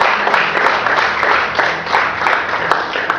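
A church congregation claps and applauds steadily through a sermon, a dense, close wash of hand claps with a few sharper individual claps standing out.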